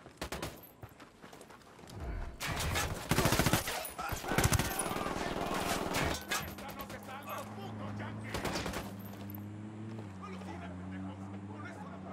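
Heavy bursts of automatic gunfire from soldiers in Ghost Recon Wildlands, loud overlapping volleys for several seconds before giving way to a lower engine-like drone, with voices talking around it.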